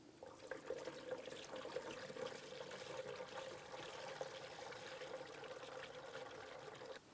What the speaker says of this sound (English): Start adding coolant.